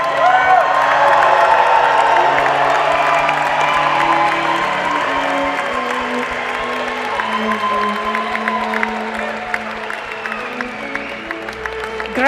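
A large commencement crowd applauds graduating MBA students, a loud sustained wash of clapping mixed with cheers and whoops that slowly eases off over several seconds, with crowd voices underneath.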